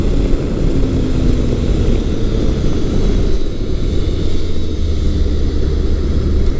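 A Kawasaki Concours 1400 Gen 1 hyper-tourer, its torque-tuned 1400 engine pulling steadily while riding, gives a continuous low, loud drone mixed with wind rush and no speech.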